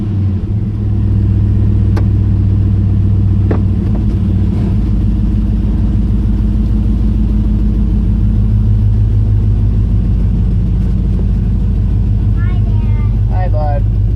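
Ford Ranger with a swapped LQ4 V8 rumbles loudly up close, a deep steady idle that swells briefly as the engine is revved, with a voice heard over it near the end.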